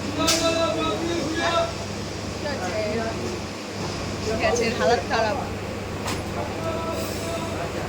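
Inside a moving passenger train, a steady low rumble and rattle of the carriage runs throughout beneath people chatting.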